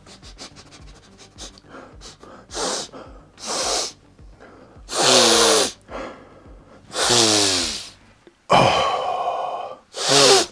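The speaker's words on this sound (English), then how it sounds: "Let's do a sniff test." A person takes a series of sharp sniffs and snorting inhales at a freshly opened box of Legions Imperialis Solar Auxilia epic-scale miniatures, each burst loud and close, spaced irregularly and growing longer toward the end.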